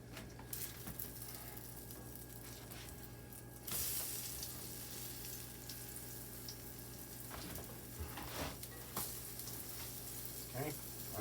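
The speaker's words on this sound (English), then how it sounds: "I'm gonna flip the pancakes." Pumpkin pancakes sizzle quietly in a hot pan, a soft steady frying hiss with a few scraping and clinking handling sounds from close by.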